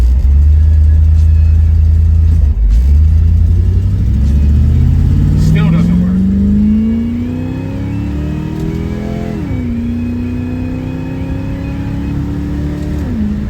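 A carbureted Chevy S10 truck engine rumbles low, then revs up through a long rising pitch sweep, dips, and climbs again while driving, loud and close with someone talking over it.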